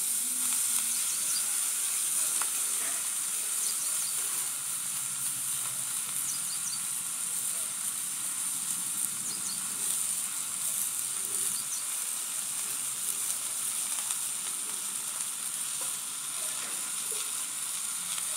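Garlic and chopped vegetables sizzle steadily in a pan on a wood-fire stove while karadai bhaji is cooked, a continuous soft frying hiss with faint stirring and no talk.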